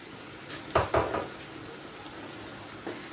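A spoon stirs tilapia stew with cooked egg in a pot, giving two quick knocking scrapes against the pot followed by a fainter tap after a quiet pause.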